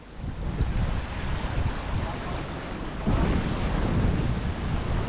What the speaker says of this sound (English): That was a gust of wind.